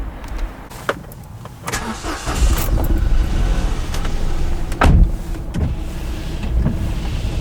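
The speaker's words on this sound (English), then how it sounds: "There goes our one-cylindered cold start." A car engine cold-starting while misfiring on one cylinder, a rough, uneven idle rumbling close by, with a few knocks and clunks and the engine note steadying slightly toward the end.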